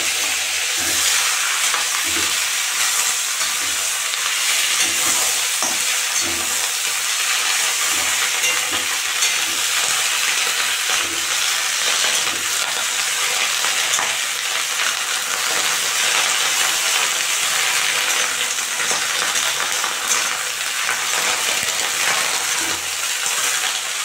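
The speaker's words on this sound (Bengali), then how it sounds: "এখন আমি লাউ পাতাগুলো দিয়ে দিলাম।" Bottle gourd leaves fry with garlic and green chili in a hot pan, a loud, dense sizzle that crackles continuously with occasional stirring scrapes and no talking.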